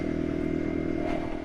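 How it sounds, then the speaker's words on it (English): A motorbike rides along a road in Finland, its engine droning steadily and loud close to the microphone, with faint rattling and wind over the constant hum. "I'm riding on with my motorbike."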